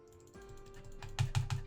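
A computer keyboard during a Magic Duels game, with a few soft key taps rising to three quick, firmer spacebar presses near the end, close but quiet over a faint electronic hum.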